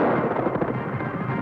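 Rapid gunfire from a 1953 TV western, a dense crackling burst of shots running continuously and fairly loud for the whole moment with no talk.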